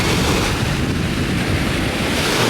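Steady, loud surf and wind rush from waves breaking on a bay beach right below a stilted house on the Homer Spit in Alaska, continuous with no voices.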